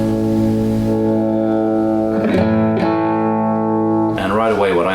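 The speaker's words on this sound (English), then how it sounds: "So the more I bring the distortion in, the more the sound is getting much louder than it was on the clean tone" Electric guitar through a Joyo US Dream distortion pedal rings out in sustained, heavily distorted chords, with a couple of short picked changes and a final bend, loud and close with no voices.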